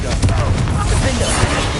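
Confringo fire blast spell cast in the video game Hogwarts Legacy during a fight in a goblin mine, a short roaring burst with low booming rumble, loud and brief, with game noise underneath.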